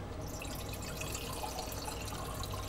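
A kitchen tap runs steadily in an indoor cabin, a continuous soft stream of water with no talking over it.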